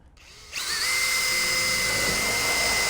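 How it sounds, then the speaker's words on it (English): A power drill spins up sharply and runs at a steady high whine, driving screws into a metal shed hasp, loud and close, alone without talk. "Just drill your hole using the 20mm screws provided."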